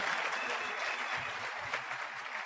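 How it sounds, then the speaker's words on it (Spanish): A steady wash of audience clapping at a business presentation, moderately distant and even throughout, with no voices over it. "para quienes pido un fuerte aplauso para los cuatro"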